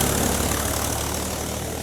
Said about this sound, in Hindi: ट्रैक्टर का आवाज़ शायद जा रहा होगा